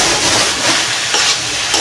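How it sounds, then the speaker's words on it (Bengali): Cabbage and potato ghonto being stirred in a hot pan, a steady close sizzle with soft scraping movements of the spoon through the vegetables. "এখন আমি একটু ঘন্টটা ভালোভাবে নেড়ে চেড়ে নিব।"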